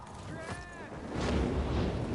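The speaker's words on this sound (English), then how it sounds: "Explosions." Explosions from gas tanks in the Dying Light 2 video game, a broad rumbling burst that swells and lingers, with some game noise around it.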